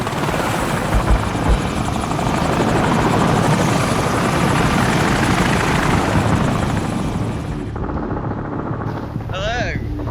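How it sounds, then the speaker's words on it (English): A helicopter's rotor chop fills the scene loud and steady, a close, continuous thudding roar that holds for several seconds before cutting off abruptly near the end, with a brief voice after it. "here comes a chopper"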